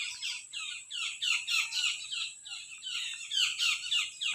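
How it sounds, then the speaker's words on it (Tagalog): Many birds squawk and chirp in a rapid, repeating chorus of high, sharp calls, fairly close and continuous, on a forested mountain outing, with no voices over them. "Ang dami ibon oh. Kakaibang ibon yun."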